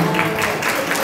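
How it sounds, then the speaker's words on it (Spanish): An audience at a children's party claps steadily for a family, a short burst of close, dense applause from a small crowd. "Aplausos, aplausos, aplausos para esta hermosa familia."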